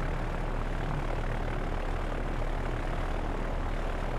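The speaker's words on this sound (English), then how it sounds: "This is our B-29 Enola Gay." Propeller engines of a B-29 bomber, the Enola Gay, in the Pacific naval war game Victory at Sea Pacific, a steady, loud droning rumble that holds unbroken throughout with no talk over it.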